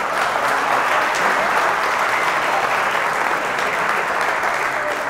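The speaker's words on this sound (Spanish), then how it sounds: "le pido otro aplauso para los organizadores" Steady applause from a talk audience at a Python community event, honoring the organizers, a dense continuous clapping that holds evenly through the whole stretch.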